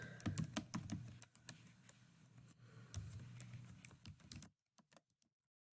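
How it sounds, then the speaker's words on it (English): Rapid typing of an email address on a computer keyboard, a dense run of close key clicks that thins out into a few separate taps before stopping, with no voices. "Type in her email address."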